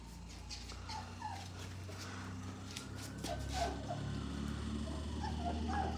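Young Irish setter puppies whimper and yip softly in short, high-pitched bursts, several voices overlapping close by against a low steady background hum.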